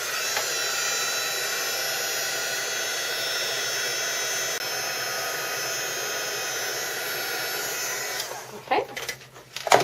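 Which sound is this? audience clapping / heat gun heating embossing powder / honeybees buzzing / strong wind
heat gun heating embossing powder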